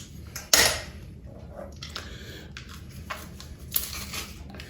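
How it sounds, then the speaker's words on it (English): A sharp metallic clack followed by softer squeezing clicks and scrapes of a handheld garlic press, close up, with no talking. "Easiest way to mince garlic there is."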